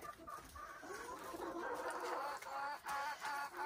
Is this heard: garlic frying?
no